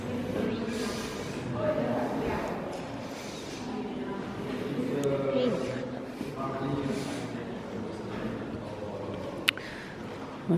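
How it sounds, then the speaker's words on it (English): Steady rumble and rattle of a steam train carriage in motion, heard from inside on a Rhone valley excursion, with a couple of sharp clanks near the end and people talking throughout. "It's a beautiful day for a steam train ride."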